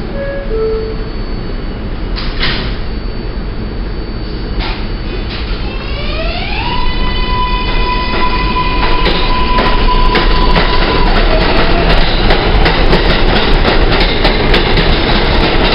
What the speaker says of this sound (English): rushing Main Street bound 7 local train. The next stop is 52nd Street.